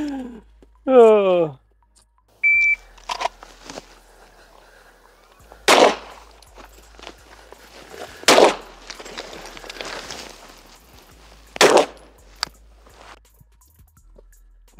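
Gunshots in a video game, several sharp separate reports spaced a few seconds apart between quieter stretches, with people talking in between.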